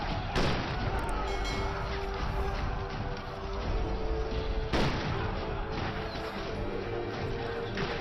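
Artillery fire in a film battle scene at a fort: a dense, loud wall of crashes and booms, with two sharp blasts standing out, under a continuous rumble of mixed combat noise.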